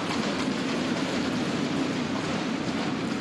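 An Indian Railways train runs along the tracks with a dense, continuous roar and rumble, steady and fairly close, with no voices.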